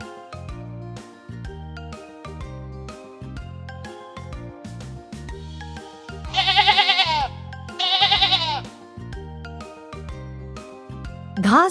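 Sheep bleating twice in wavering cries over a bouncy children's tune about farm animals on grass, with a brief third bleat at the end.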